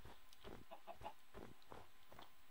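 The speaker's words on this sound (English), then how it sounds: "there's chickens. Found some chickens." Chickens in the Minecraft video game cluck in short repeated bursts, faint and slightly distant over a low steady background, with no talking.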